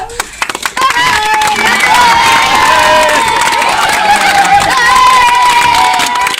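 At a wedding procession a crowd cheers and shouts loudly, with children's voices and some clapping, forming a sustained, close roar after a few scattered claps at the start.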